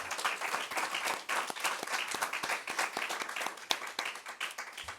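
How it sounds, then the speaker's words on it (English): A large audience at a high school summer graduation ceremony applauds steadily with dense, continuous hand clapping throughout, no voices standing out. "Could I get you guys to just clap for me on that?"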